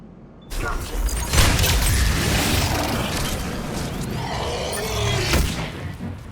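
A grenade blast in the video game Mass Effect 3 lands as a sudden heavy boom and then rolls into a long, dense rumble of combat noise with a brief flare near the end, loud and close.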